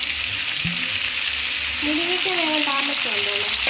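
Chopped drumsticks stir-frying in a pan for a Kerala thoran give a steady, close sizzle with occasional stirring scrapes, while a voice talks over the cooking.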